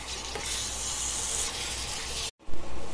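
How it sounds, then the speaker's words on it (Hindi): Goat meat sizzling loudly on a hot tawa as its juices cook off, a steady close frying hiss with a brief break near the end. "अभी इसको अच्छा पकाएंगे, जरा गोश्त का पानी सुखाएंगे"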